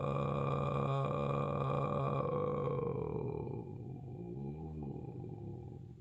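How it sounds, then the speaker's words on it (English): A singer sustains a steady note, then eases off the airflow so the tone thins and breaks down into low, rattling vocal creak near the end, heard close and alone. "I'm holding a note and I back off the airflow until I drop into creak"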